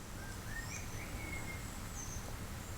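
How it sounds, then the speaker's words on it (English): Outdoors on a calm morning beside a parked camper car on the South Downs, several birds sing in short whistled phrases over a faint, steady murmur of a small nearby stream. "all you can hear outside is birds and the little stream that's running next to the car"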